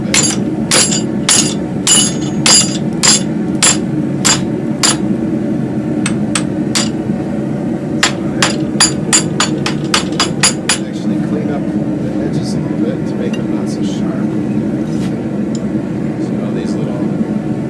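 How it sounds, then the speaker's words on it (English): A hammer strikes a heated railroad spike while it is forged into a hook, giving a fast series of sharp metallic rings that later thin to scattered taps over a steady low workshop hum. "I'm going to just kind of hit it with the hammer on the side"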